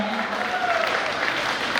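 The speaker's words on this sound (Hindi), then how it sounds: "तुम अपनी तालियों के शोर से आशीष दे देना।" Audience applause at a kavi sammelan poetry recital during an annual fair festival, heard as a short, steady burst of clapping with a faint tonal hum from the hall sound system.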